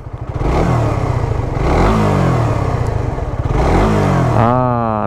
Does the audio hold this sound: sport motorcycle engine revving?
yes